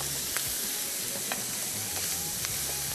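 Onions fry gently in a pan with a soft continuous sizzle and occasional faint scraping clicks, moderately quiet and steady throughout.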